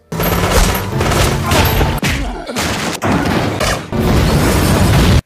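Gunfire and explosions from a scene in the action film The Punisher, loud and continuous, with dense bursts of shots and crashing blasts that keep going across the whole stretch with only brief dips.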